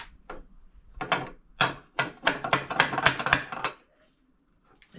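A burst of sharp hammer strikes, about a dozen close metallic blows in a quick uneven rhythm, then quiet.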